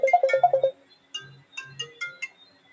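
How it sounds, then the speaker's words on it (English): Incoming-call ringtone on a phone, a fast run of repeated bright electronic tones followed by a few spaced notes, fairly close and clear with no talking. "Let me answer this phone call."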